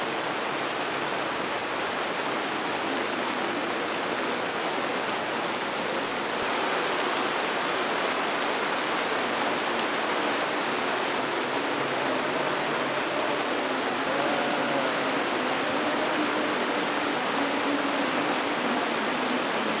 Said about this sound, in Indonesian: Walau hujan mengguyur Jakarta hingga tengah malam jelang 7 harian.